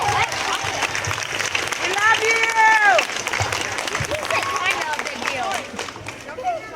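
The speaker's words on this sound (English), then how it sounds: "give them a round of applause" Schoolchildren applaud their parents at an elementary school clap-out send-off, dense clapping filling the hall with shouts and children's voices rising over it throughout.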